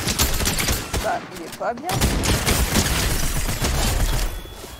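Rapid bursts of gunfire in Fortnite, loud and close, continuous automatic fire with a short pause midway, while players talk over it.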